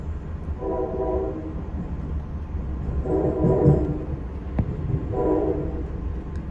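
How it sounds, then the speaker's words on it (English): An Amtrak Lake Shore Limited horn is heard from inside a Viewliner II roomette. Three muffled blasts sound at a steady spacing over the constant rumble and clatter of the moving train. "The horn sounds a little bit weird in this little confined space."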